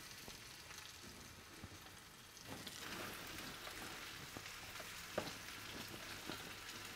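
Lamb neck sears in a hot saucepan with a steady, quiet sizzle and crackle, broken by a few sharper pops and spits throughout.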